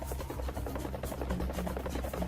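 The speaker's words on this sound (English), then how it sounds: "Why is there a helicopter in the background?" Helicopter rotor chop thrumming steadily in the background of the Serious Sam video game, a low continuous pulsing drone with no talk over it.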